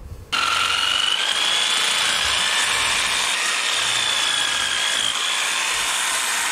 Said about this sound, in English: The hedger is cutting through this pretty nicely.